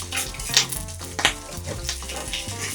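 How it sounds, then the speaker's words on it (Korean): An egg fries and bubbles in hot oil in a wok, a close, continuous sizzling crackle with a couple of louder spattering pops. "진짜 튀김된다. 보글보글."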